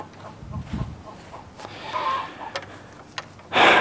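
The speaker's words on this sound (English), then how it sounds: "Chickens in the background." Chickens cluck in the background in short, scattered calls over faint outdoor ambience, with some clattering and a louder rustling burst at the end.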